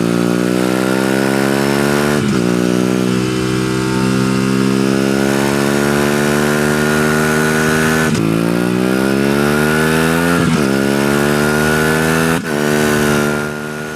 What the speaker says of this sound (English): you get a beautiful sounding 270-degree crank in this parallel twin, which gives it the sound and feel of the bigger bikes above it in the Aprilia lineup